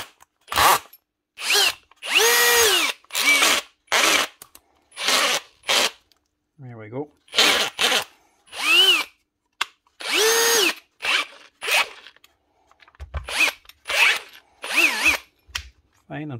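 A Hikoki DV18DBXL brushless cordless drill with a stripped gearbox runs in short repeated bursts, whirring up and down loudly and close, with the low gear audibly slipping between runs.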